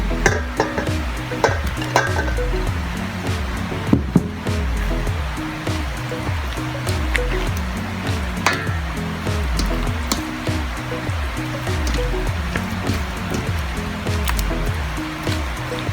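Half-cooked langka (jackfruit) frying in hot oil for a tomato sauce dish, a steady loud sizzle and bubbling with occasional clinks and stirs throughout, no talking.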